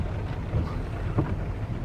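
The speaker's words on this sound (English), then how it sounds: "Somebody's not too happy about all this rain." Rain falls steadily as a soft, dense hiss, with a low rumble of thunder swelling briefly twice in the short span, heard without any voices.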